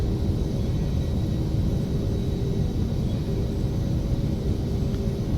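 A TFDi Boeing 717's jet engines roar at takeoff thrust in a flight simulator, a loud, steady broadband rumble with a faint high whine, unbroken for several seconds.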